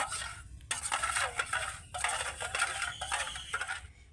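A spoon scrapes and clatters against a steel bowl while bread dough ingredients with warm milk are stirred together, in irregular metallic bursts separated by short pauses, close and fairly quiet.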